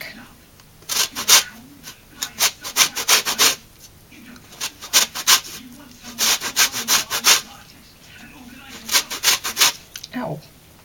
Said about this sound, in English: So I just use this part of the grater.